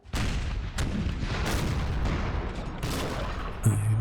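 Artillery battery in Empire: Total War firing a dense, continuous barrage of booms and cracks, with sharp louder reports standing out over a rumbling wash of gunfire throughout.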